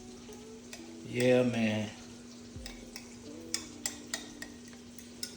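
Oxtail ingredients mixed by hand in a dish, soft wet squelching followed by a few light ticks and knocks, close; someone briefly speaks at the start.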